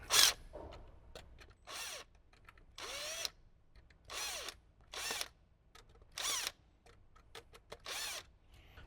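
A power drill loosens screws on a Toyota Tacoma amplifier in a series of short whirring bursts, about eight of them separated by brief pauses, close and clear with no talk.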